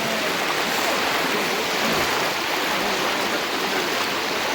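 Steady, loud rushing of flood water flowing continuously, a dense broad roar with no voices.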